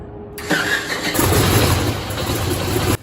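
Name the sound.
old propeller airplane engine cold starting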